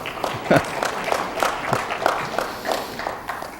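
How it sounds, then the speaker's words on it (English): Scattered clapping from an audience, irregular and fairly close, with a few louder hand strikes breaking up a loose, thin patter. "I won't ask which segment is clapping about that"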